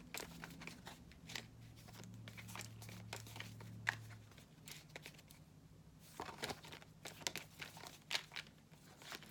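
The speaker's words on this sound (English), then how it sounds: "the cards are starting to not want to be shuffled anymore" Tarot cards are shuffled by hand in a series of soft, papery riffles and rustles, close and fairly quiet, with a faint low hum underneath.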